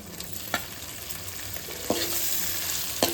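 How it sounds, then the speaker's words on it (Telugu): Raw prawns fry in a pan with a constant close sizzle, punctuated by three distinct spoon strikes spaced about a second apart, with no voices. "పచ్చిరొయ్యలు ఫ్రై వేసుకుంటున్నానండి"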